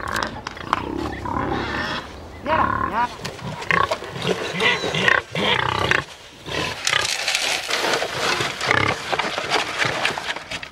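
Pigs on a farm squeal, grunt and roar loudly at soup feeding time, many animals together in a chaotic, overlapping din, with a voice narrating over the noise.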